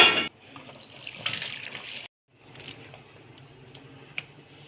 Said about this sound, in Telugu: స్టవ్ ఆఫ్ చేసుకొని నీళ్ళు వంపేసుకోవాలి